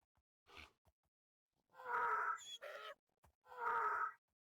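Baby donkey mob sounds from the Minecraft video game: a faint click, then a run of nasal braying calls and squeaky bursts, close and clear without speech.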